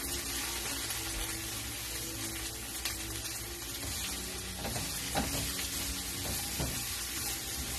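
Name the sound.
stirring a mixture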